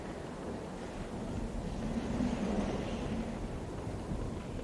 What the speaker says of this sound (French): Il y a du vent. Voilà ce que le jeu essaie de nous dire.